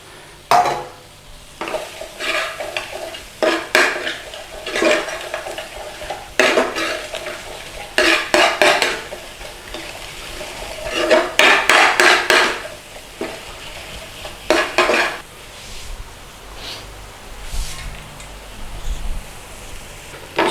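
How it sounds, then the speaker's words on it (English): A utensil stirs and scrapes spices, including coriander, frying in a pan for a British Indian restaurant-style chicken tikka madras curry. Bursts of loud, close scraping alternate with a steady background sizzle, with no talking. "So we're cooking out these spices, just lovely."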